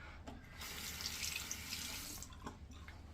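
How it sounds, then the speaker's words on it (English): Water running and splashing while shaving soap is lathered with a brush in a bowl, a steady close rushing wash that stops abruptly near the end, with no talking. "I introduced a decent amount of water at first and then just sloshed."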